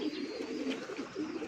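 A jeera pigeon coos close by in a steady, low, rolling murmur that lasts the whole moment, with no voices around it.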